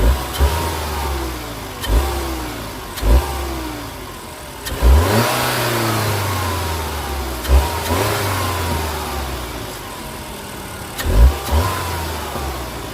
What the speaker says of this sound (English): But I will let y'all hear the motor.